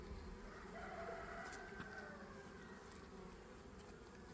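A steady, droning hum of many insects buzzing, continuous and fairly close, with a faint bird or rooster call in the background.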